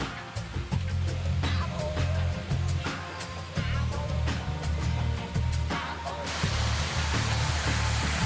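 A tall waterfall at the end of a hiking trail, its steady broadband roar of falling water loud and continuous throughout, with no voices over it.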